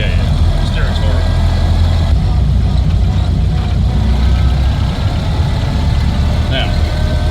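Engine of a 1930 Ford with manual transmission running steadily as it is driven, a continuous low rumbling drone, loud and close, under people talking.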